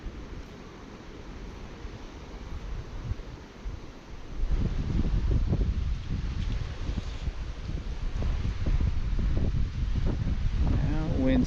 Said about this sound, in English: Now wind's kicking up.